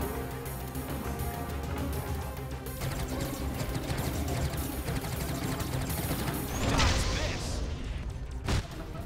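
Repeated booming cannon shots and crashing impacts in a dense, noisy Starlink: Battle For Atlas soundscape, with a louder blast near the end.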